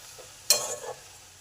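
Okra and potatoes stirred in a frying pan: a single close scraping stir erupts midway with a light sizzle, then fades back to quiet cooking, with no talking.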